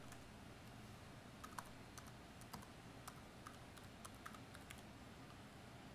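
Steady typing on a computer keyboard while network settings such as the gateway and DNS are entered during an LTFS LE operating system install, with quiet clustered clicks over a low constant hum and no talking.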